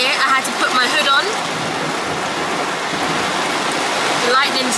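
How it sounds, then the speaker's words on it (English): Heavy tropical-storm rain pours down in a dense, steady hiss, with the patter of the downpour filling the scene and brief faint chirping sounds breaking through near the start and end. "This rain is no joke."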